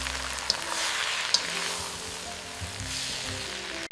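Vegan stir-fried noodles sizzle steadily in a hot pan, a bright continuous hiss with occasional small pops and a clatter at the very end.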